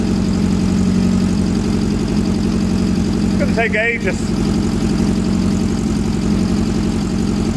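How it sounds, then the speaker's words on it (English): A 1974 VW Beetle engine idling steadily close by, a constant low throbbing drone throughout, with someone speaking briefly over it. "It's been running for like 5 minutes"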